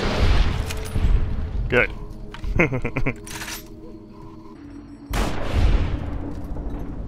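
Gunfire in Fallout New Vegas: a couple of loud blasts at the start, a rapid burst of sharp shots around two and a half to three seconds, and another heavy blast near five seconds, with a brief spoken word in between.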